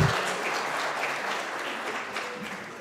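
A room full of people applauding during a plenary council session after a vice-presidential vote result, with continuous even clapping at a moderate level that tapers slightly toward the end.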